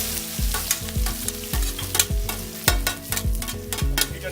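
Chopped onion fries in a hot pan for curry gravy with a steady, close sizzle, while a utensil stirs and scrapes through it in repeated rhythmic strokes.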